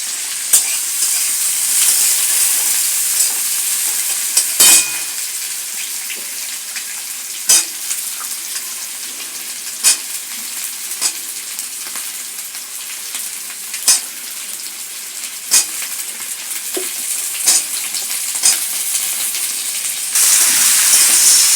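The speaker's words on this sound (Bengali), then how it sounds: "শিম আলু পেঁয়াজ একটু ভাজা ভাজা হলে মশলা দিয়ে" Beans, potatoes and onions sizzle steadily in a hot pan, a continuous bright hiss broken every couple of seconds by sharp scrapes and clacks of a spatula stirring, close and loud with no talking.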